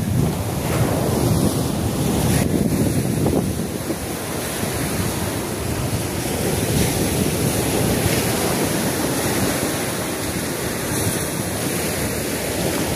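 Ocean surf rolls onto a seashore in a steady loud roar, waves washing in continuously and mixed with heavy wind buffeting the microphone, no voices.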